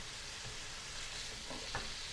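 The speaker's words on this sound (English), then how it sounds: "Now I'll just be breaking the beef up" Ground beef, just added to vegetables for a pub-style shepherd's pie, sizzles and fries in a pan while being broken up and stirred, a steady hiss broken by a few faint scrapes, with no talking.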